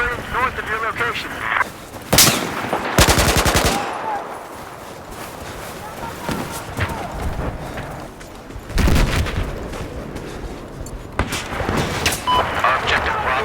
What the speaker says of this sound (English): Appears to be a machine gunner operating north of your location.